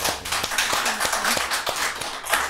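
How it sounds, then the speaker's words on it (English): A small group of people in a studio talk-show setting claps in a loose, uneven rhythm of distinct hand claps, fairly close, with a voice murmuring briefly beneath. "give them a round of applause"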